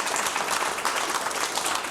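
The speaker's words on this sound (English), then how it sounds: "Big round of applause for a good time." Comedy show audience applauding steadily, a dense wash of clapping that fills the short stretch evenly without any pause.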